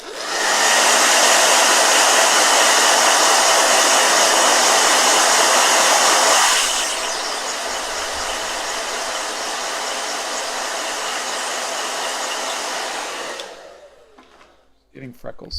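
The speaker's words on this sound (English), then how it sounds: "Blow dryer." Blow dryer drying a watercolor painting, a loud, steady whirring roar that drops to a lower setting partway through, runs on, then switches off with some faint handling sounds at the end.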